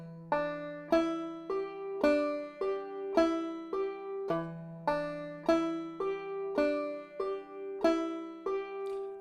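Banjo notes picked one at a time with finger plucks, a steady rhythmic run of bright, ringing twangs that decay between strikes, each played clearly and alone without any talk.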